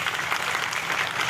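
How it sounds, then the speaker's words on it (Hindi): An audience at a public speech in Durg claps steadily in a dense, even burst of applause, with no voices over it. "जरा जोरदार ताली बजाइए।"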